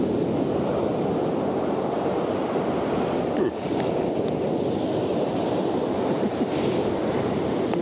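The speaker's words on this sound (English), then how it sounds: "Ocean angry." Surf crashes continuously onto a beach during a fishing outing, a loud, steady roar of breaking waves mixed with wind buffeting the microphone, with no voices.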